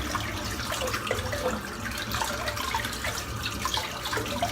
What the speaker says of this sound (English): let's just empty this sink out